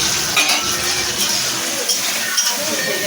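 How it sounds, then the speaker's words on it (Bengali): Green peas fry in white oil in a wok, giving a dense, loud sizzle with a few light clinks and stirring scrapes over a short stretch, and no voices. "দিয়ে দেবো কড়াইশুটিগুলো আগে একটু ভেজে নেবো"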